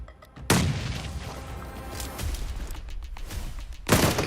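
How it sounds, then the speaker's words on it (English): A grenade blast in the mobile battle-royale game PUBG Mobile during a competitive esports match: a sudden loud boom at the start, rumbling gunfire and game noise through the middle, then another sharp burst near the end, with no talking. "Good nade from Potato."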